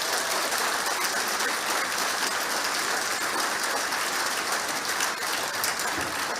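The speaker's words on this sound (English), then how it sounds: "So I give a big round of applause for Dunmore." Sustained crowd applause after a Galway U19 A football final between Dunmore MacHales and Oranmore Maree, a dense, steady wash of clapping filling the whole stretch at a fairly far distance.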